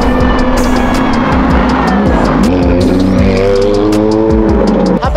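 A Chevette engine roars loudly at a street drag race, revving hard with tire squeal and skidding as the car launches, close and loud with no talking over it.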